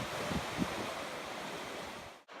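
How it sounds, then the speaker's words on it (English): Small river waterfalls rush in a steady broadband roar, close and continuous, with a brief dip at the very end. "Lots of little waterfalls."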